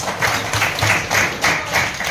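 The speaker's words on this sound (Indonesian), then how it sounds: "Oke, tepuk tangan kita semua" Students in a classroom clap together in a steady rhythmic beat, about six bright group claps close by, with no talking over them.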